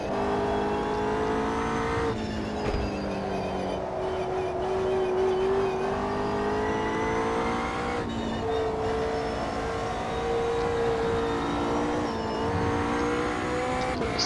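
A McLaren 720S GT3 race car in Automobilista 2 sounds continuously, its engine note rising and falling as the throttle opens and closes through corners, with brief dips at gear changes. The sound is loud and steady throughout with no talk.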